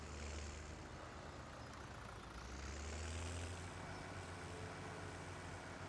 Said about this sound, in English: park our tractor back up